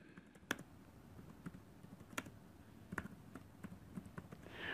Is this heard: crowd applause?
no